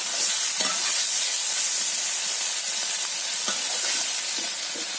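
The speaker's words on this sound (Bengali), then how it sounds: "পেঁয়াজ এগুলো দিয়ে দিলাম। এগুলো ভালো করে আগে ভেজে নেব।" Onions with turmeric, salt and chili fry in a pan with a loud, steady sizzle and hiss. Faint stirring scrapes sound now and then.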